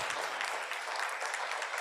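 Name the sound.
audience applause at summit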